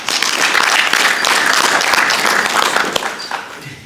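An audience claps steadily for a few seconds at a festival launch event, a dense, fairly loud burst of applause that fades out toward the end.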